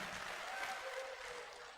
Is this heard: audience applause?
yes